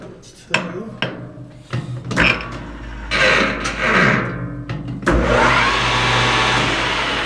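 A Grizzly metal lathe in a home shop starts with a few knocks and clunks, then comes up to speed into a loud, steady motor whine and mechanical hum that carries on to the end.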